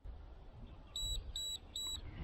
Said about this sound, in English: and you hear 3 beeps